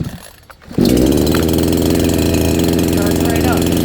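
A CMA-680 68cc 20-inch chainsaw starts up after a brief quiet moment, then runs loud and steady with its chain spinning, a close, continuous buzzing engine drone.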